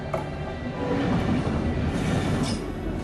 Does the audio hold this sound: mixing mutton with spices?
no